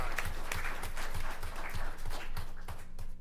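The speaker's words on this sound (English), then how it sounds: "Give him a round of applause because he's the one who keeps me in line." A room of people at a borough council meeting and centennial event applauds a local historian, with steady, moderately loud clapping and a faint rhythmic low thumping underneath.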